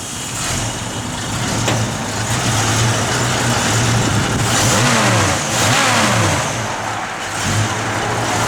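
A 1965 Ford Mustang 2+2 engine runs loudly and steadily close by, with a few revs rising and falling over a continuous rumble and no talking.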